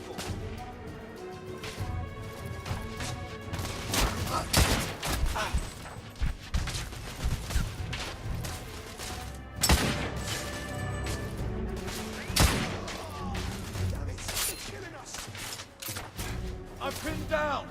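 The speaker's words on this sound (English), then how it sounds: "I'm under heavy fire!" Heavy gunfire rattles in the video game The Order: 1886, with bursts of shots, sharp cracks and impacts crashing close and loud in irregular volleys.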